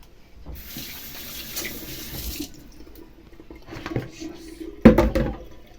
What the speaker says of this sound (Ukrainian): Тепер зараз назад сюди викидаю цю миску. І залю повністю оцтом.